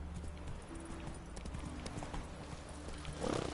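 Hooves of the horse Roach in The Witcher 3 clip-clop at a steady trotting rhythm, close and continuous, with a brief snort or whinny near the end and a voice speaking at moderate level.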